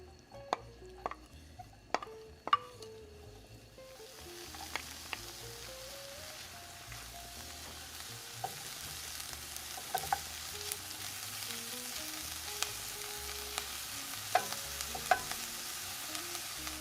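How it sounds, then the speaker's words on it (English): Onions and garlic sauté in a little oil in a pan over medium heat, a steady close sizzle with a few sharp clicks of stirring at the start and occasional pops continuing throughout. "Pan's on a medium heat, and I added a little bit of oil, and we're just gonna saute our onions and our garlic"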